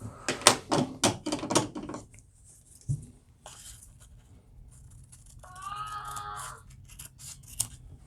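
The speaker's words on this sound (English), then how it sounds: "Okay, so I'm going to cut that part off." Scissors snip through folded paper while an origami flexagon is being made: a quick run of sharp, close cuts at the start, then quieter rustling and handling of the paper.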